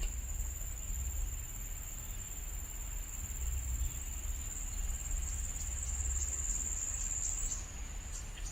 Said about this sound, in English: Can you hear the insects?